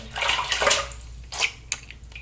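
A razor is swished and rinsed in water after a shave, giving bursts of splashing and sloshing with a brief clink near the end, close and moderately loud with no talk.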